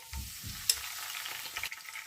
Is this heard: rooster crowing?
no